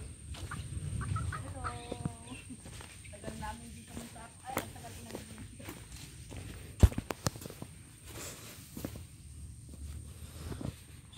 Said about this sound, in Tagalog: kanin ang pinagbibigay sa manok